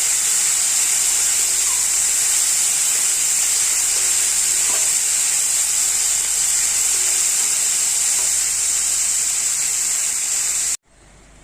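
Dheki shak greens fry in oil with turmeric, giving a loud, steady sizzle and hiss that holds evenly and then cuts off abruptly just before the end, with no voices.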